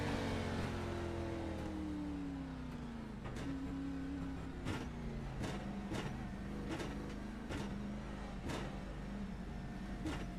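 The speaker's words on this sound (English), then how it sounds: "You can hear his engine skipping because he's definitely out of fuel." A race car engine in the iRacing simulation drones on board while running out of fuel, its tone sagging and stumbling with repeated sharp skips and cuts over about ten seconds, with no voices.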